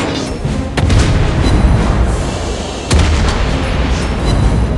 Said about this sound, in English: Those guns are made for shooting.